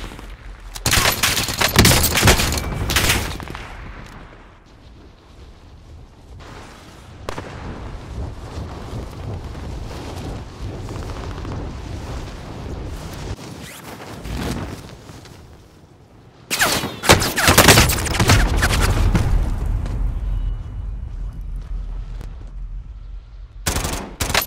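Heavy gunfire and explosions in the Call of Duty: Modern Warfare video game: rapid automatic bursts and booming blasts come in loud, dense waves, with a quieter stretch of scattered shots in the middle.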